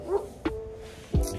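People imitate dog barks on a skiing trip, giving three short, voiced woof-like yelps spaced across the moment. The voice is close and moderately loud, with a whimpering tone.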